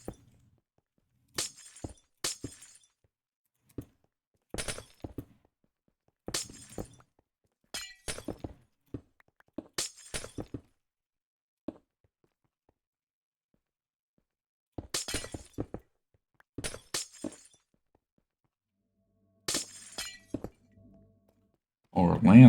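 Glass blocks shatter in a Minecraft-style game on the AutoCraftSMP server, a series of crisp, close breaking clinks in quick bursts separated by silent gaps, followed by a brief louder rumble at the end.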